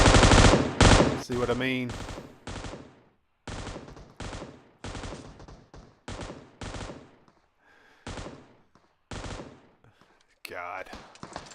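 An M249 machine gun fires in PUBG Mobile in long, rapid bursts separated by short pauses, loud and close, with someone briefly talking between volleys.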